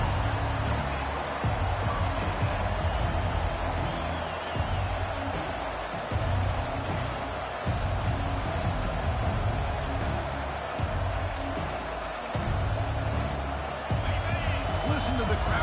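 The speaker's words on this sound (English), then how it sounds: "Listen to the crowd energy here in the early going." A loud, steady roar of a large stadium crowd cheering throughout an LSU college football game, with a commentator talking over it.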